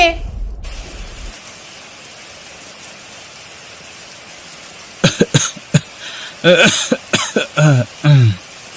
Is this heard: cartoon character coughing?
yes